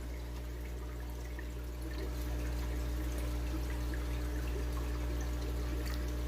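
Water from soaked fish pellets poured into an African cichlid aquarium, a soft, continuous trickle and splash over a low steady hum, faint and close.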